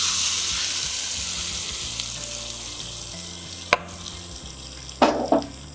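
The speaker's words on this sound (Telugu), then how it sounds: "కరివేపాకు నేను పెట్టుకుంటే కరివేపాకు చిటపట అంటుంది" Curry leaves crackle in hot oil as a tempering for a raw mango roti pachadi, a steady close sizzle with a sharp pop near the middle and a short burst of crackles toward the end.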